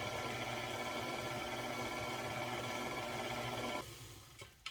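Strawberry cupcake batter is mixed in a bowl under a low, steady motor hum with a faint rattle. The hum stays quiet and constant, then winds down near the end.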